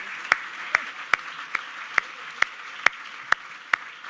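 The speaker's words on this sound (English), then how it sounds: "And give them a round of applause." An audience applauds forum panelists, though only sparse, evenly spaced claps ring out at a steady beat over a faint background murmur.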